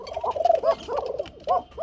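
Kuka pigeons, a male and female pair, call in a series of throaty, rolling coos, close by and repeating in short bursts with brief pauses between them, alone without talk.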